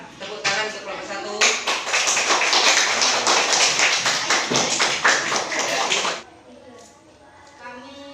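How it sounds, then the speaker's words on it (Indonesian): Classroom applause for group 1 at a teacher training lesson, a burst of clapping from students that swells for several seconds and then stops abruptly, with faint talk before and after. "Tepuk tangan untuk kelompok 1."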